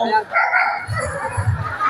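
A person vocally imitates a happy dog with bright yips and woofs, loud and close, in quick, uneven bursts.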